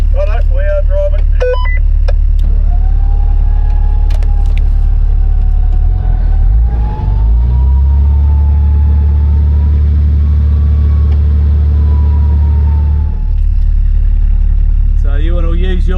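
An off-road vehicle engine rumbles steadily while driving up a steep hillside during a recovery, a low continuous drone that swells partway through, with a faint tonal whine and brief clicks at the start and end.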